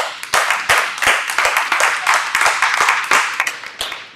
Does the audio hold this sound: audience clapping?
yes